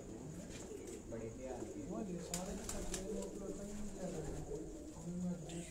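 Pigeons coo repeatedly on a rooftop in Sialkot, soft throaty calls close by over a steady background hum, with voices talking underneath.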